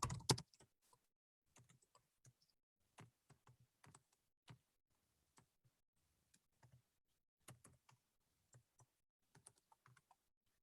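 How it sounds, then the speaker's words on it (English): Quiet keyboard typing in short irregular bursts of clicks with brief pauses between them, no voices. "while I'm typing in these numbers"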